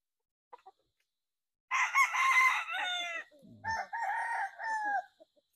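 A white Kelso broodcock rooster crows loudly and nearby, one long drawn-out call followed by a second shorter crow, with a couple of faint clucks before it.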